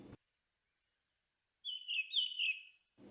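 A single faint bird call rises out of near silence in Lihué Calel park at midday, a thin warbling phrase lasting about a second, heard at a distance.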